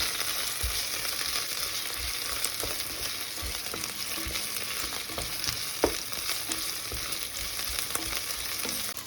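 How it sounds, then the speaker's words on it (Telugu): Ginger-garlic paste sizzles in a hot pan for Telangana bagara rice, a dense continuous frying hiss broken by scraping stirs and a sharper clack near the end, close by with no talking. "అల్లం వెల్లుల్లి పేస్ట్ని పచ్చివాసన పోయేంత వరకు వేయించుకోవాలి"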